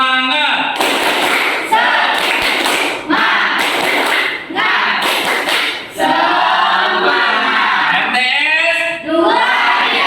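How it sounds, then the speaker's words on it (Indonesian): A standing class of madrasah students performs a rhythmic spirit clap, loud bursts of patterned clapping with shouted chants and cheers, broken by short pauses. "Coba tepuk semangat."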